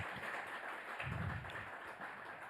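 Faint applause from an audience at a health technology hub launch event in Africa, a soft, continuous patter of clapping heard from a distance with a brief swell in the middle.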